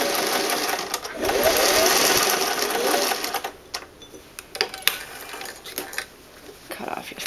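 Sewing machine stitching a French seam on a summer dress, running in a steady rapid whir for a couple of seconds, then slowing into scattered clicks and taps.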